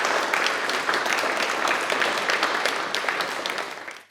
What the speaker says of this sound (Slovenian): Pozdravljamo tudi doktorico Marijo Klopčar z enako bučnim aplavzom.